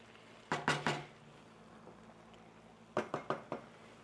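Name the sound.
stirring zucchini and squash in a cooking pan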